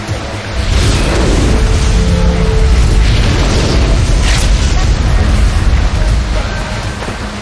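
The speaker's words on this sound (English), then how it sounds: "God, some of them explode." Enemies blow up in City of Heroes with a sustained, loud rumbling explosion. The low booming roar fills the whole stretch almost unbroken, without talk.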